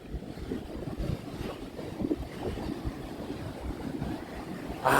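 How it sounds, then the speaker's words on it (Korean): Rough off-season sea at Ky Co Beach in Vietnam: big waves roll and churn in a continuous loud wash with gusts of wind buffeting the microphone, and a heavier surge breaks at the very end. "그 파도가 성나 있는 것 같아"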